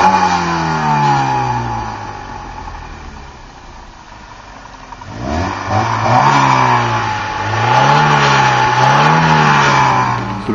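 Alfa Romeo Giulietta Nuova (116) twin-cam engine, its typical sound muted, revving up and down repeatedly, a steady idle then rising and falling pitch sweeps, close and loud with no talk.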